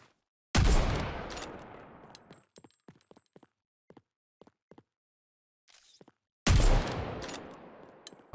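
Gunfire in the battle royale game Apex Legends: two loud, sharp bursts with long ringing tails, separated by a run of quieter clicks and clacks of weapon handling, no talk.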